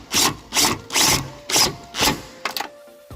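Hose clamps being tightened on a radiator hose of a 2016 Jeep Cherokee 2.4L, with five evenly spaced loud ratcheting or screwing strokes close by, then a short rattle of metal.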